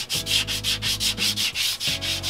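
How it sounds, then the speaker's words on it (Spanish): Sandpaper is worked back and forth over greasy drum brake shoes in steady, rhythmic rasping strokes, close and loud, with no talking. "le vamos a pasar otra vez la lija"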